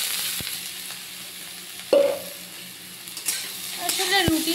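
Hot oil spatters and crackles in a frying pan as a wet spatula touches it, with a sharp burst of sizzle partway through and smaller pops and stirring noises around it.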